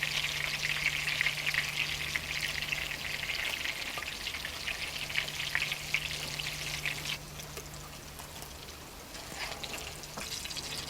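Chicken strips frying in oil make a dense, continuous crackling sizzle at moderate volume, easing slightly partway through, then carrying on steadily with no talk over it.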